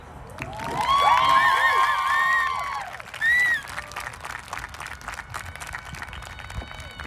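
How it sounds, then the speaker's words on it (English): A graduation ceremony audience for the class of 2021 bursts into cheers, whoops and clapping, loudest in the first few seconds, then settling into scattered, softer applause. "One more round of applause for our student speakers and the amazing job they've done in preparation and delivering their speeches."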